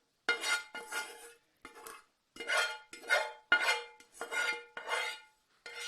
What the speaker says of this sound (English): now I'm going to mix the carrots and spring onions with the